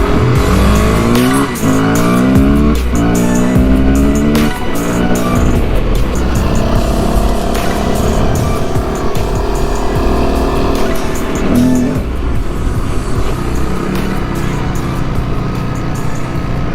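An enduro motorcycle engine revs hard and close, loud and sustained, with rising and falling pitch sweeps as the throttle is worked, drowning out everything else.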